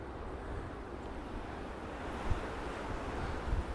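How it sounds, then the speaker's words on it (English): Ocean waves roll onto a windy island beach, a soft, continuous wash of surf with wind rumbling across the microphone and a couple of slightly louder breaks. "There's waves coming in."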